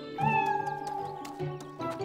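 A cartoon cat meows clearly and nearby, a drawn-out tonal call followed by softer trailing meows.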